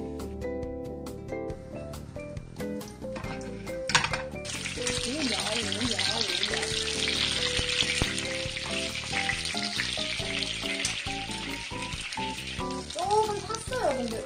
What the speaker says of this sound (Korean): 오늘은 소시지를 볶아 먹는 걸 굉장히 좋아합니다